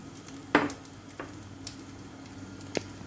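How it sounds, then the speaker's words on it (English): Shrimp and tomato stirred in a pot for tom yum soup, with a few sharp utensil clicks against the pot over a faint bubbling simmer. "then stir it."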